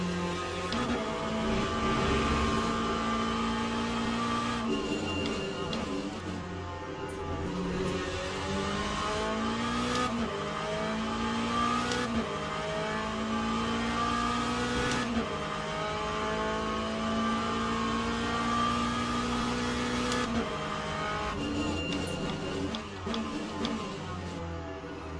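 A McLaren race car engine in the racing sim Le Mans Ultimate, during a long endurance race at Fuji, drones steadily with rising and falling revs as the car shifts through gears, a continuous mid-level roar with no talking.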